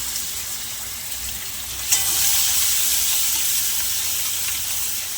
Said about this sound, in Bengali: আমরা এবারে পেঁয়াজগুলো দিয়ে দেবো।